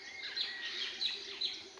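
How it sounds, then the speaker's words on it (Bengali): Birds chirp at dawn in a few quick, high tweets, faint and somewhat distant over a quiet background. "আজকের এই মুহূর্তে পাখিদের কিচিরমিচির শব্দ"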